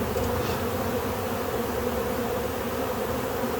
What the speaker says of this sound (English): Tremendous amount of bees in this colony now.